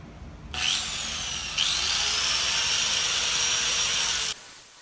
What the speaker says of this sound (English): It's about 7 more minutes of grinding, 120 grit, polishing, flap disc.